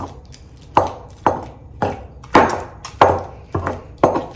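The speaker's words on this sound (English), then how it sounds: "See how you mash and twist, and it just makes the perfect consistency for avocado." Avocado mashed for guacamole in a bowl, a series of about eight soft, wet thuds and squishes in a steady rhythm, close and fairly loud with no talk.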